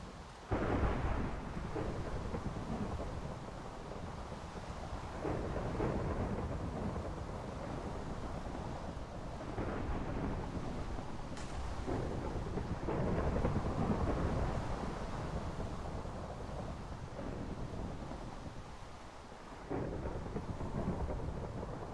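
A thunderstorm in Minecraft, set in a hardcore world, rumbles with repeated rolling thunder over steady rain and wind noise, fairly loud and continuous with no talking.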